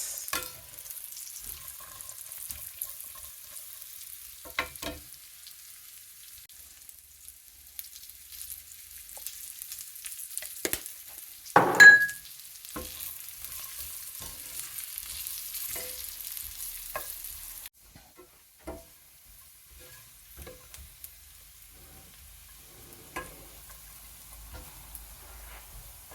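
Sultanas and chili flakes fry together in a pan for Nigerian carrot cashew nut rice: a faint, steady sizzle with occasional stirring scrapes, one brief louder clatter midway, and the hiss dropping away toward the end.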